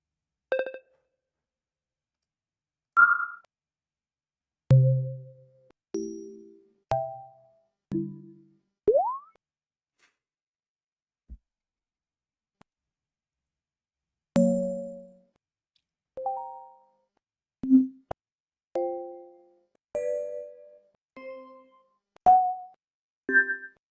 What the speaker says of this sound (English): made some new notification sounds.